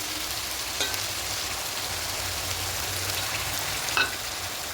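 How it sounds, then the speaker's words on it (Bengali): Yogurt mixed with ground spices fries in a pan for a festive-style katla fish kalia, giving an even, continuous hiss and sizzle with a couple of small clinks, no talking. "এবার এখানে যে টক দইয়ের সঙ্গে গুঁড়ো মশলাগুলো রেখে অ্যাড করেছিলাম এটা দিয়ে দেবো"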